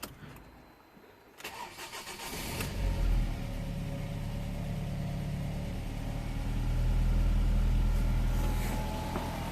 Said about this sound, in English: Okay, I'm gonna start the engine.